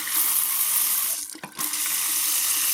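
Warm water gushes from a household tap after a pump restarts in winter. The rush is steady and loud, with a brief sputtering dip partway through, and no one speaks.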